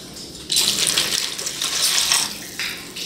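Water pours into a bowl of basic bread dough mix that already holds soybean oil. After a quiet half-second, a steady splashing stream runs for about two and a half seconds before tapering off.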